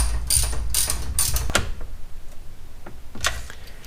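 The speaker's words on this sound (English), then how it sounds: "then either a 1/4" drive ratchet or an adapter for 3/8" A 1/4 inch drive ratchet turning 10mm bolts while installing parts on a 2015 Subaru WRX STI, three quick bursts of clicking followed by a single clack and two fainter, slower clicks, close and clear with no talking.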